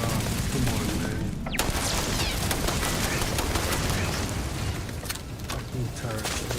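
Automated turret gunfire in a sci-fi video game, Starfield, rattles as dense continuous bursts with sharp cracks near the end, loud and close amid noisy combat.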